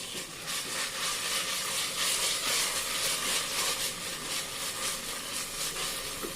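Ginger garlic paste frying in a pan with sautéed onions for coconut milk rice, giving a steady, close, continuous sizzling hiss with no talking.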